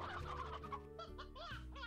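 Poultry in the Slime Rancher video game cluck and gobble in a dense, continuous stream of game bird calls layered with background music, close and steady throughout.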